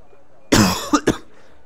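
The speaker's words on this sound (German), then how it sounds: "Tut mir leid übrigens wegen meinem Husten." A person coughs close to the microphone, one longer rough cough followed by two short sharp ones, in otherwise quiet surroundings.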